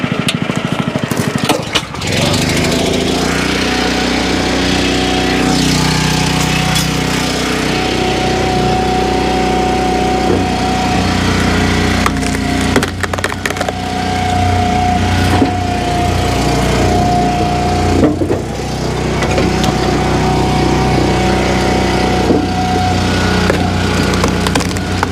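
A TimberOX log splitter's small engine runs steadily for the whole stretch, a loud, continuous mechanical drone with a few brief dips and clatters of wood being handled nearby, no talking over it.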